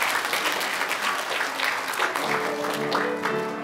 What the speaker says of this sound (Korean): 우리 서로에게 박수로 축복하겠습니다